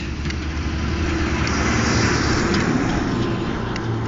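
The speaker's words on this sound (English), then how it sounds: "There's a garbage truck coming, so it's going to be a little bit loud for a second" A heavy garbage truck engine rumbles steadily nearby with low droning noise and a rising, then easing loudness as it passes around a corner.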